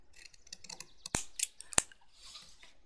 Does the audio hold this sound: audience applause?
no